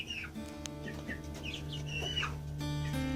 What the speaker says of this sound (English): There's 5 hens in there